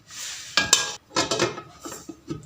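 A metal lid clatters onto a pot of goat trotters in a home kitchen, a few sharp clanks and scraping clinks of metal on metal, close and moderately loud, with no talking.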